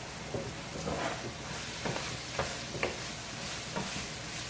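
Onions and bell peppers cook down in a pan for lasagna, giving a steady soft sizzle with a few scraping stirs of a utensil. No one speaks.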